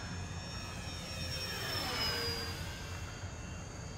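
A radio-controlled F4U-4 Corsair model plane, a 3S electric with roughly 1100 mm wingspan, makes a full-speed pass outdoors, its steady motor whine rising and shifting in pitch as it sweeps by at moderate distance, alone without talk.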